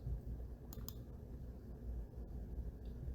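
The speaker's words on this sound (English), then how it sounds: "Let's click on categories" A computer mouse gives a couple of soft, close clicks in quick succession over a low steady background hum, with no talking.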